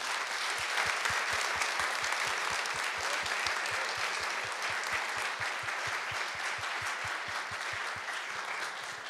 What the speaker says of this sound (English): let's take a moment and just have a round of applause for all 5 of our team